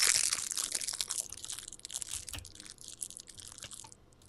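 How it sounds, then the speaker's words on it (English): Close, crackly crinkling of a Kit Kat wrapper being crumpled in bursts, with no speech. "Your Kit Kat wrapper."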